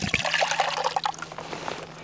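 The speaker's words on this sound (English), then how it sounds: "we have water at the top readily available that we can pour into our canteen cup" Water poured from a military canteen into a metal canteen cup outdoors in winter, a steady close trickle and splash lasting about two seconds with no talking.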